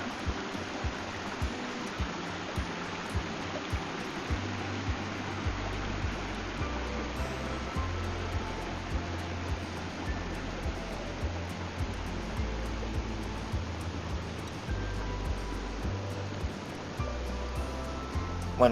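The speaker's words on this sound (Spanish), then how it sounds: "Y ahora veremos un vídeo de este río y tiene algo de movimiento." River water flows steadily and evenly for the whole stretch, with a broad rushing wash and a low rumble. The sound carries no talk, and its level holds constant throughout.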